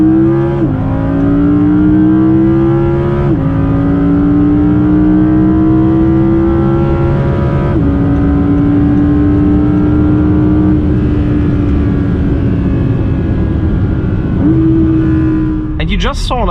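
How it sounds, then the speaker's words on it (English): An Audi R8 accelerates hard from 100 to 200 km/h with a loud, close engine note that climbs steadily through several gear changes, each marked by a brief dip, while a person talks over it. "let's see if our own R8 can be faster than a GT3 RS in a straight line"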